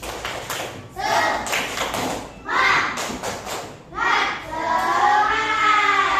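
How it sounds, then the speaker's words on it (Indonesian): A group of children in a school prayer lesson performs a rhythmic spirit clap in several loud bursts of clapping and thumping, with young voices chanting and calling out along with it. "Tepuk semangat."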